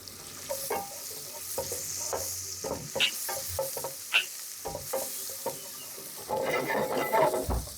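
Sliced onion sizzles in oil and butter with garlic in a pan for boscaiola pasta. Close, steady frying hiss runs under repeated scraping stirs, and the sizzle swells louder near the end.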